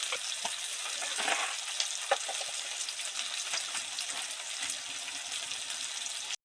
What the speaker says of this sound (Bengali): পেঁয়াজটা মোটামুটি ভাজা ভাজা হয়ে গেছে